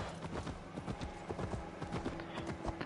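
Horse hooves clip-clop in a steady rapid rhythm from a mount in Assassin's Creed Valhalla, close and prominent, with a brief faint whinny-like sound in the mix.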